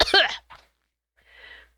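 A person who has been sick coughs loudly and close to the microphone, a sharp burst followed by a smaller one, then a faint breathy sound after a pause.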